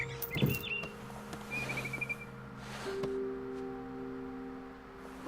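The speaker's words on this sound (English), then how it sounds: "Then I heard chirping outside my window. It was a barn swallow going back to her nest." A barn swallow chirps in the video game What Remains of Edith Finch, giving a short burst of thin, high twitters over a soft sustained game ambience with low hum and occasional clicks.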